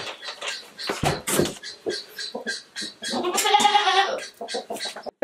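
A young goat doe bleats loudly and repeatedly, demanding to be let in, with a series of harsh, nasal calls close by, the longest one near the end, alone without talk.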